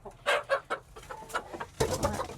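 Chickens cluck and fuss inside a dark coop on a family farm, a cluster of short, close, moderately loud calls with no talking.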